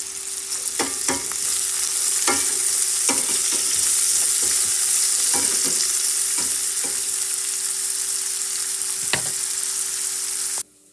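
Vegetables sizzle in hot oil in a pan after rabbit pieces come out, a loud continuous frying hiss broken by scattered clinks and stirring knocks, stopping abruptly at the end.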